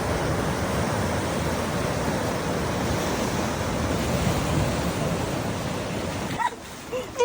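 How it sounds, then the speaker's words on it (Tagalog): Sea waves wash and roar continuously near a lighthouse on the coast of Davao Oriental, with wind buffeting the microphone, then ease off near the end. "paparinig ko sa inyo yung dagat"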